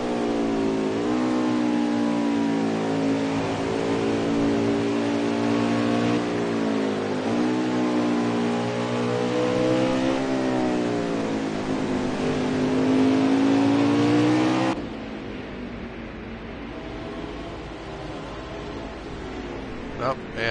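Onboard roar of a Winston Cup stock car engine shifting up through the gears, loud sustained revs climbing with each gear change, then the pitch drops and fades near the end under race commentary.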